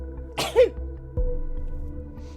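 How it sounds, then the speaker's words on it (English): A single sharp sneeze, close and sudden, followed by a brief thud and low background hum, heard during play of the video game Orwell: Keeping an Eye on You. "I need to sneeze"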